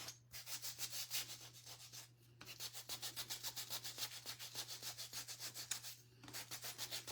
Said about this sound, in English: Sand my stem.